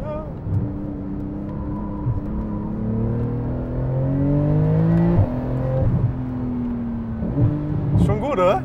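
An ABT-tuned Audi RS6 engine revving and pulling hard during a launch control start, a droning, rising engine note with gear changes, heard from inside the car.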